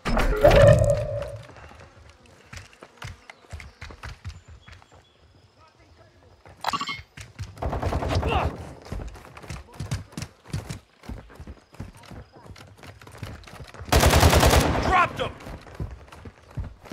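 Gunfire in a military shooter video game, sharp broadband bursts scattered through the clip with a loud dense volley near the end, mixed with game dialogue and effects.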